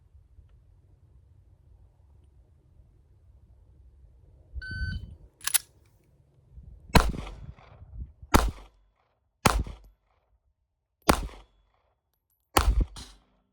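A Ruger LCP2 pistol fires six sharp shots at a 10-yard outdoor range, spaced roughly one to one and a half seconds apart. The cracks are loud and close, preceded by a brief electronic beep.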